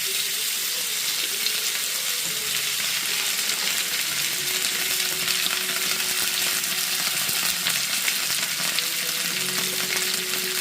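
Potatoes and okra frying in hot oil with cumin and dried red chili in a pan, giving a dense, steady, close sizzle that runs unbroken throughout with no talking.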